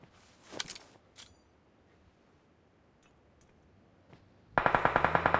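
A few sharp shots ring out in a winter shooting video game, then a loud rapid burst of automatic gunfire closes the clip, with quieter clicks and handling noises between.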